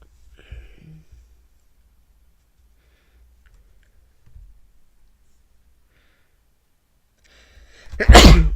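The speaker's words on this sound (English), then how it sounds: "Mute yourself when you sneeze." A single loud, close sneeze bursts out near the end after long quiet, preceded by faint low rustles and murmurs, during an online watchalong of an Arsenal v Leeds football match.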